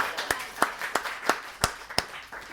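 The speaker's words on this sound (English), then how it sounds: "Let's give it a round of applause for Mary." A few separate claps ring out at a bar reading event, roughly one sharp hit every third of a second, close and fairly quiet over a low room hum.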